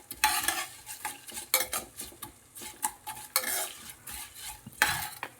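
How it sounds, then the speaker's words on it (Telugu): Something fries in a pan on a low flame until lightly browned, with a soft sizzle under repeated close scraping and stirring strokes of a utensil against the pan in an irregular rhythm. "కొంచెం చిన్న మంట మీద వేయించుకోవాలి. కొద్దిగా లైట్ కొంచెం బ్రౌన్ కలర్ వచ్చేలాగా వేయించుకోవాలి."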